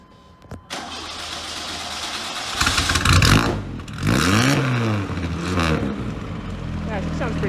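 A car engine with only a glass pack for exhaust cranks and catches, then rises into two loud throaty revs that fall back to a rough, steady idle, close and dominant.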